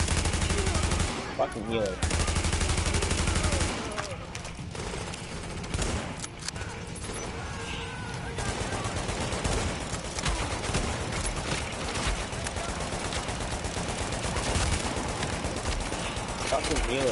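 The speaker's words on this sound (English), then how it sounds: "I'm shooting." Sustained automatic gunfire from The Division's Dark Zone fight fills the whole stretch, dense and loud, with brief bursts of shooting and a player's voice cutting in now and then.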